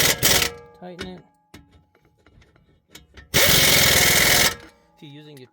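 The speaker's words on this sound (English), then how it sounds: "If you're using your torque gun or impact gun, adjust your torque." An impact gun tightens a bolt on a Toyota Camry steering knuckle in two loud buzzing bursts, a brief one at the start and a longer one near the end, with someone talking in between.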